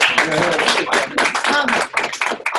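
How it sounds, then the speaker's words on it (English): Audience applause at an innovation presentation event: a steady, fairly loud patter of many hands clapping throughout, with voices mixed in under it. "Nice, we can clap."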